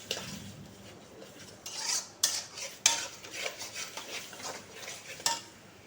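A spoon scrapes and clinks against a pan while sour curd is stirred into spice masala, several sharp metallic taps and scrapes over a faint sizzle, close and fairly quiet.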